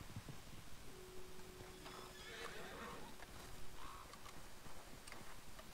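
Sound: horse neighing in video game Red Dead Online

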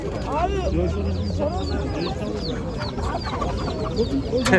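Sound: roosters and chickens clucking at a poultry market

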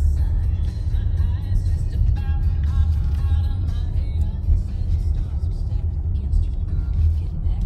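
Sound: car pulling into neighborhood

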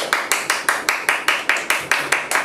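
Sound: class clapping hands together

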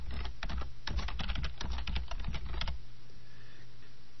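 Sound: typing a file name on a computer keyboard

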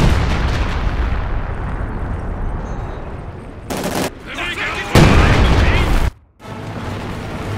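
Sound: machine gun fire in Company of Heroes 2 video game

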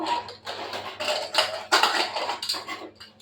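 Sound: pressure cooker lid being opened after cooling

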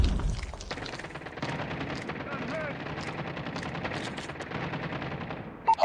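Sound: sentry gun firing in video game Call of Duty

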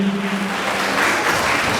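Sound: applause

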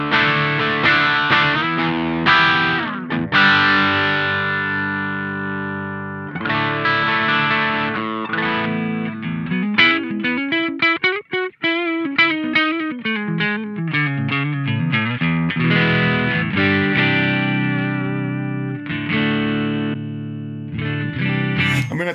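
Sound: Two Notes ReVolt guitar amp overdriven, loud distorted tone

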